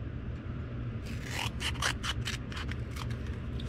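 Scissors cut through tape during a battery-pack car jump-starter build, making a quick run of close, raspy rubbing and snipping strokes over a steady low room hum.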